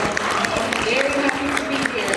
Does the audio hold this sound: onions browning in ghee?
no